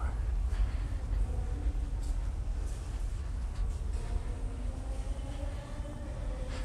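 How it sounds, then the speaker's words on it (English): A train in an old subway station gives a continuous, fairly quiet rumble and rattle of rail cars. There is no clear voice over it. "This subway station is ancient."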